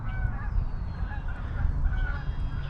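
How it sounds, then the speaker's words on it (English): A flock of geese and other waterfowl honk and call loudly and continuously outdoors on a warm day by fishing water, with overlapping cries over a steady background. "the birds are making a racket."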